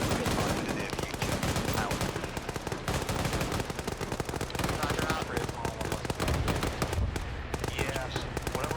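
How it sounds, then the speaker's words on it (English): Sustained gunfire in a military video game, with dense bursts of automatic fire and rapid cracks layered without pause over a loud battlefield din, and radio-style voices talking amid the shooting. "we're taking fire to the north bearing 350"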